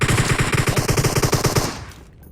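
Rapid automatic gunfire in PUBG Mobile, a loud, evenly spaced burst of shots rattling for about two seconds before cutting off abruptly into quiet.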